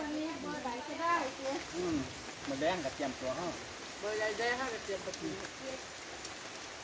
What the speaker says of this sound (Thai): บัดนี้ฝนตกมาให้แล้ว